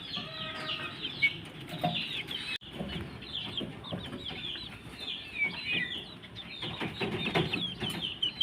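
Young chicks in a backyard flock cluck and cheep continuously, close by, with busy overlapping calls and a few brief flutters throughout.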